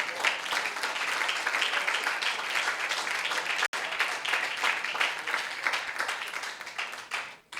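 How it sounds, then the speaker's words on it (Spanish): A church congregation gives sustained, dense applause, many hands clapping together steadily and loudly for several seconds, with a brief break in the middle before the clapping fades out. "Denle un fuerte aplauso al Señor."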